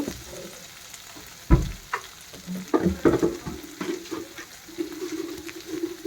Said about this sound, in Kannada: ಈ ಈರುಳ್ಳಿ ಮೆಣಸಿನ್ಕಾಯಿ ಇವೆಲ್ಲ ಚೆನ್ನಾಗಿ ಫ್ರೈ ಆಗಲಿ